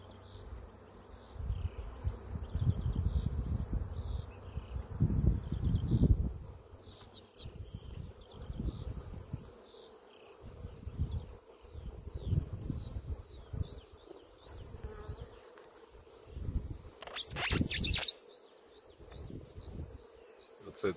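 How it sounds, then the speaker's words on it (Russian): Honeybees buzz while foraging near an apiary beside flowering yellow mustard and phacelia on a no-till field, a steady, close insect drone with passing individual bees, some outdoor wind and birds faintly behind. "Так вот наши пчелки работают."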